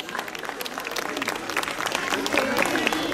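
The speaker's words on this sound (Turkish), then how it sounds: "Sayın Funda Özdemir alkışlarınızla." Audience applause at a Circassian cultural festival in Uzunyayla, a dense crowd clapping steadily and growing slightly louder, with faint voices underneath.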